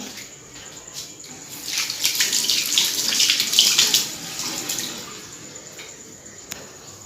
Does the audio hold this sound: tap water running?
yes